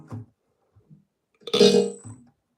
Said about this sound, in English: I just freaking burped into the mic